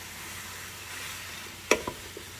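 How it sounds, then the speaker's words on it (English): Ground meat sautés in a Ninja Speedi with a faint, steady sizzle, broken by a couple of sharp utensil clacks near the end. "that meat is just sauteing away"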